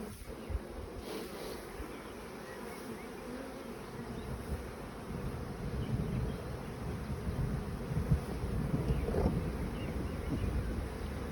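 Honey bees buzz in a dense, continuous drone as frames are shaken during hive splitting, swelling louder toward the end with light wind noise on the microphone.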